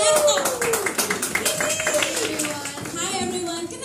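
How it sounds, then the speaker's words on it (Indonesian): An audience applauds for a speaker with dense, continuous clapping that stays fairly loud throughout, while a voice talks over it. "aku pengen tepuk tangan yang meriah untuk Ashley Sugiyarto"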